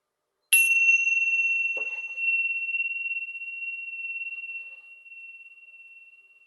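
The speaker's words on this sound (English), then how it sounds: "Ringing the chime." A single chime rings once close by with a bright metallic strike, then a pure sustained tone slowly fades over several seconds, with a faint soft knock shortly after the strike and no talking.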